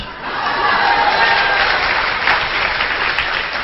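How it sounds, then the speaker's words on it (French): Audience in a church or lecture setting clapping, a dense sustained round of applause that swells quickly and holds steady at close range. "les applaudissements se font un peu moins retentissants"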